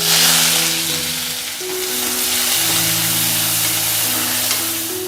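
Mustard seeds, cumin, chopped onion and curry leaves sizzle in hot oil, a steady close crackle with a low tonal hum running beneath it and no voices.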